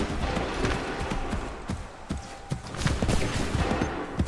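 Scattered musket volleys ring out in an Assassin's Creed 3 battle, a dense fusillade of overlapping cracks and thuds repeating over a few seconds, with rumbling hooves and faint shouts mixed in.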